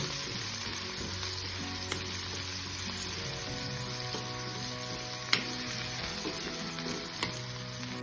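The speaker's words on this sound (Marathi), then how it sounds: "कांदा कच्चा असल्यानंतर खाण्यात मजा येत नाही, त्यामुळे चांगला परतून घ्यायचा" Chopped onion sautéing in a pan for Khandeshi baingan bharit, a steady close hiss of frying with occasional scrape and stir clicks, no voices.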